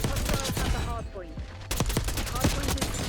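Rapid bursts of gunfire, including shotgun blasts, crack close and loud in a Black Ops 6 multiplayer match, with a short lull before the shooting resumes, and some speech is mixed in.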